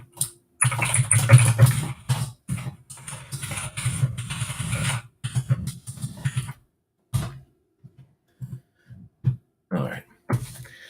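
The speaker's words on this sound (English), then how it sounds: "I got a loud mechanical keyboard" Close, clattering keystrokes on a loud mechanical computer keyboard come in irregular bursts and short runs separated by pauses, with no talk over them.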